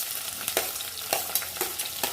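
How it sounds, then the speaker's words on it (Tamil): Chopped onions frying in oil in a hot pan for chicken pulao, a steady close sizzle broken by several sharp stirring scrapes at an even pace, with no voices. "இப்போ வெங்காயம் போட்டுக்கலாம்."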